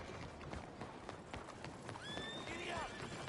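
A horse gallops in a video game with steady clip-clop hooves, then lets out a loud, rising neigh near the end, heard over a busy background with voices.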